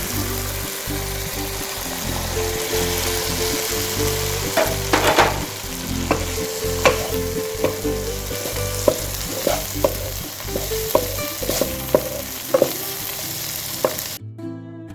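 Chicken sizzles steadily in a hot pan for a chicken bread roll stuffing, a loud continuous frying hiss with occasional scraping and tapping of a stirring spoon, close up and without talking.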